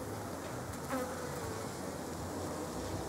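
Honey bees in an opened, heavily populated hive in March give off a dense, continuous buzzing hum, close and steady throughout, with no talk.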